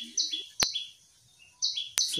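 Prinia (prenjak) chirps in two bursts of high, thin notes with sharp clicks, fairly close and alone with no talking.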